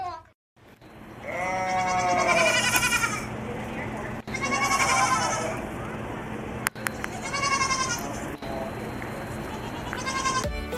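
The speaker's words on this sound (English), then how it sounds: "There's the goats." Goats at a farm exhibit bleat loudly in several long wavering calls one after another, close by, with low background murmur and a few sharp knocks between calls.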